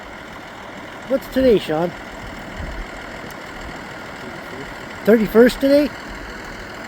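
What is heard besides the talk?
tractor engine running in a hay field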